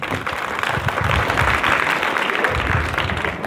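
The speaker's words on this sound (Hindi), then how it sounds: "एक बार जोरदार ताली के लिए।" Students in an Indian college motivational class give a loud, enthusiastic round of applause, a dense continuous wash of many hands clapping close by.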